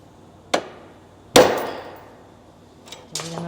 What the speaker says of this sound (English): then hammer it in.